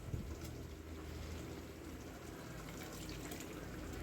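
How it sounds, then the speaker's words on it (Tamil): Steady, continuous splashing of water being poured into a cooking pot of drumstick kurma, a broad rushing wash with no talk over it. "இப்போ இது கூட இன்னும் கொஞ்சம் தண்ணி சேர்த்துக்கலாம்."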